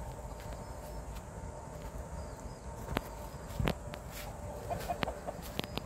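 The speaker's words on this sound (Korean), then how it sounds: "꼬꾸댁 닭" Chicken clucking on a Korean family farm with sesame and pepper crops, a few short clucks and rustles standing out over a steady outdoor background, moderately close.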